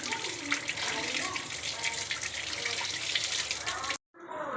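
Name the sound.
washing dragon fruit in water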